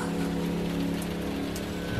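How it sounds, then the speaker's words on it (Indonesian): Steady rain hisses continuously with a constant low hum underneath, dense and unbroken throughout. "Tapi memang suara hujan yang sangat deras"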